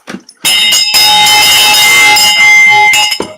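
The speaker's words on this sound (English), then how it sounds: "Ring that bell. I'm gonna ring it." A bell rings loud and close, starting with a quick strike and then holding a bright, sustained metallic tone with steady overtones for about three seconds before it cuts off.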